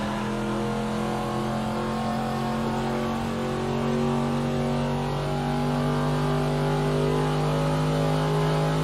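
Race car engine held at full throttle down a long straightaway in a racing video game, a steady high, droning whine slowly rising in pitch, loud and continuous with no talk over it.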